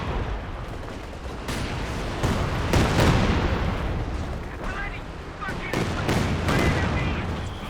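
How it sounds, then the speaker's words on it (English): Katyusha rocket artillery fires in a Company of Heroes 2 battle against a mortar position, a dense, continuous barrage of booming launches and impacts with rumbling explosions swelling and overlapping throughout. "We've got a Katyusha onto the mortar here."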